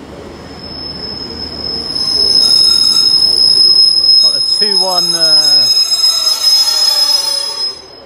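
Class 150 diesel multiple unit 150247 pulling through Torquay station with loud, sustained wheel squeal rising over rumbling rail noise, the shrill screech dominating the second half before easing; a brief voice speaks near the start.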